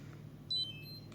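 A Kiriazi seven-drawer deep freezer sounds a short electronic alarm, a few thin high beeps over a steady low appliance hum, heard close and fairly faint with no talking.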